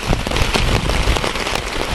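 Heavy downpour drumming on a Naturehike two-person single-wall tent, a dense, loud, continuous patter of drops hitting the fabric with no voices.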